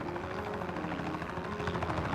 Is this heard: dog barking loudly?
no